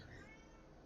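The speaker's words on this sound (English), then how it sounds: "But Manny, I'm sorry about my cat" A pet cat meows loudly and close by, one drawn-out plaintive call filling the short moment, heard alone over the microphone during an online game leadership chat.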